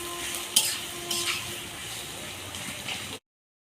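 Onions frying in a pan give off a soft, continuous sizzle, with a few sharper stirring clinks and scrapes near the start and middle before the sound cuts off abruptly.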